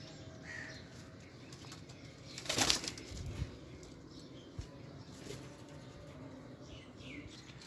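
Soft Sabz China pigeon coos in a quiet space, broken by a brief burst of flapping wings midway and a few small thumps.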